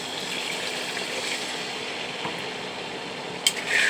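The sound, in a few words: water being poured into the cooking pot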